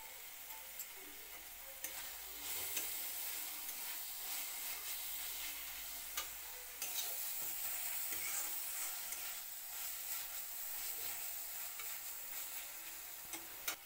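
Thick spice paste of red chilli powder, green chilli paste and mustard paste sizzles steadily in a pan for a Bengali boal fish paturi, with scraping stir strokes through the frying; no talking.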